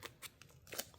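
Scissors cutting through release paper during alcohol ink tumbler crafting, a few short crisp snips spaced across a second, close and fairly quiet.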